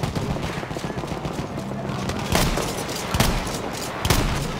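Battlefield 1 gunfire on the St Quentin Scar map in Conquest mode, with sustained rattling shots and several sharper, louder reports near the end, plus faint talk underneath.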